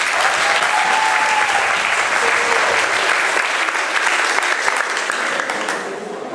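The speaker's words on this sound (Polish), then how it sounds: "Poproszę brawa na Marcina." Steady applause from a school audience at a quiz contest in a Bielsko-Biała high school, loud and dense throughout, with a faint tonal whistle early on.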